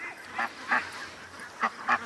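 Ducks give four short honking calls in two pairs, fairly close and loud against a quiet outdoor background.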